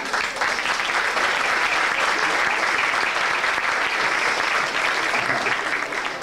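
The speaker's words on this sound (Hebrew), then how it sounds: "עם המחיאות כפיים אתם יכולים להחליט, או כולם או אף אחד לא" Sustained applause from a concert audience at a live show, a thick, even roar of many hands clapping that holds loud and steady throughout without a break.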